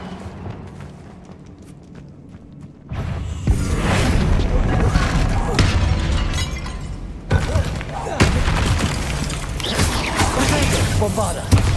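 A Confringo spell explosion in Hogwarts Legacy: after a quieter opening with a spoken voice, a loud booming blast erupts and sustains as rumbling, crackling debris with further heavy thuds, under game chatter.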